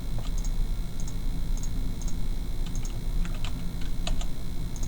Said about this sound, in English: then I type in my credit card information